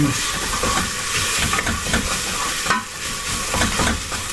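Spices, garlic and aromatics frying in a pan for Thai beetroot and black cumin soup, a loud continuous sizzle and hiss with faint stirring scrapes, close and steady with no speech.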